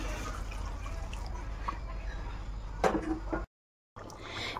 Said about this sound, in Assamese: আৰু এতিয়া ইয়াত গৰম পানী এড কৰি দিম।